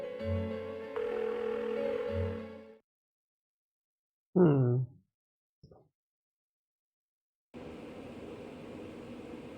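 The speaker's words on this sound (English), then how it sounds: "Why won't she pick up the phone?" In the Persona 4 video game, a phone call goes unanswered. A tonal ringback sounds in two long pulses and is followed by a short electronic blip. A tone returns after a silence.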